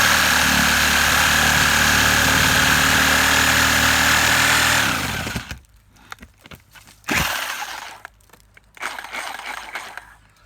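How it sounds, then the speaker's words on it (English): A Milwaukee orbital Sawzall reciprocating saw cuts through scrap wood, loud and close with a harsh steady buzz for about five seconds, then cuts out; a few shorter bursts and knocks follow as the wood is worked. "Watch how fast this thing cuts through this wood."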